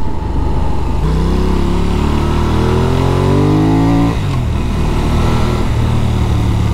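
A 2023 Benelli Leoncino 800 motorcycle engine, A2 restricted and capped near 7000 rpm, rising steadily in pitch through a rev before dropping back to a loud, close, throbbing idle.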